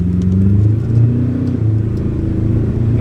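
A 2021 Ford Ranger Thunder ute accelerating hard, a loud, close, steady engine roar with low rumbling drone held throughout.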